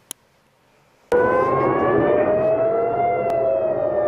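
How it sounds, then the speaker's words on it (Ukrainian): After a faint click, an air raid siren starts abruptly and wails loudly and steadily over Tel Aviv, its pitch rising slowly as it sustains. "Пронизливе виття сирени над Тель-Авівом."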